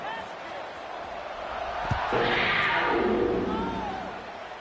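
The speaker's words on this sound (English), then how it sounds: "this crowd is buzzing after that last score" College football stadium crowd at a Duke versus Kentucky game buzzing just before a kickoff, a steady broad roar that swells in the middle and fades slightly, with a dull thump partway through and a commentator talking over it.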